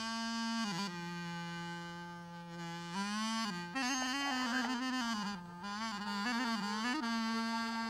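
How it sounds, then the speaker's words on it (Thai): A Khmer-style reed pipe with a bamboo body and a reed tongue plays a sustained, nasal melody, holding long tones with slides and ornamented shifts in pitch, loud and close, with no talking. "นี่คือเสียงปีอ้อนะครับ"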